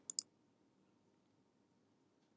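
Two quick, crisp computer mouse clicks close together while working in Photoshop, sharp and near against a quiet room hum, with nothing else following.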